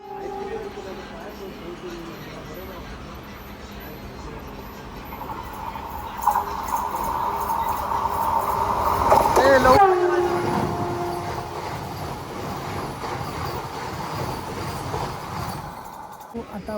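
The Netravati Express runs along the Konkan Railway, a continuous rumble and rattle of carriages with a sharp screech near the middle, heard from on board over steady noise.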